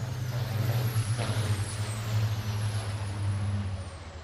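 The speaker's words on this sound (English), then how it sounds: "So everyone else trying to get through the turns here is the number 13 of Bob Mitchell off turn number 4" Semi trucks race through the turns of a high-banked race track, giving off a loud low rumbling diesel roar that swells and fades as they pass, with a faint whine above it.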